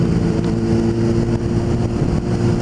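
A 600cc motorcycle engine runs loud and close, a sustained rough drone with a steady low rumble and no clear rise or fall in pitch.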